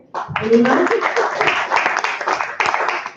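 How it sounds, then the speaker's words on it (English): Steady applause from a forum audience, with a voice briefly audible near the start, continuing at an even level until the end. "A round of applause for Alfred."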